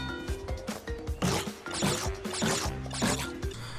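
Fruit being collected in the Crash Bandicoot video game: several short bright pickup chimes come in quick succession over steady background game music, close and clear with no talking.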